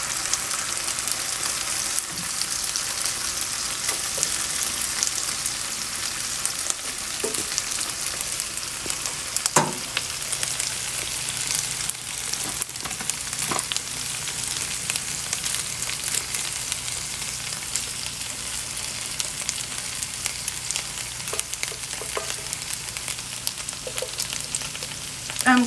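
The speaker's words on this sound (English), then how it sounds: "Now I'm just going to add this on the grill, and I'm going to baste it with some of my sauce" Guyanese BBQ pork ribs basted with sauce sizzle on a grill, a steady soft crackling hiss that runs throughout with occasional sharper pops and no talking.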